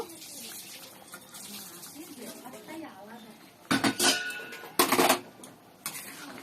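A little water splashes into a pot of chicken cooked without ginger or garlic, short sloshing bursts mixed with metal clinks against the pot, while someone talks quietly.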